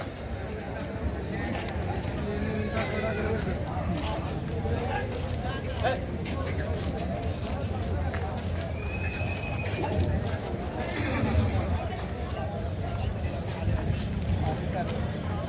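A Gavran breed mare at the Yeola Dussehra horse market, with whinnies and hoof sounds mixed into constant crowd chatter and market noise, and someone speaking over it.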